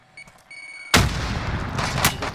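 A frag grenade goes off in a video game. Soft beeps and small clicks come first, then a sudden loud, close blast with a rumbling tail, and a second burst of noise near the end.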